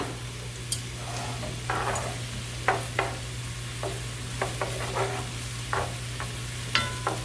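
Onion cooking in a pan over a steady low hum, with a soft sizzle and repeated scrapes and clicks of a utensil stirring at irregular intervals, close and moderately quiet, no voices.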